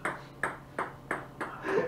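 A ping pong ball bounces five times on a hard surface, each tap ringing with a short high ping at a fairly even pace.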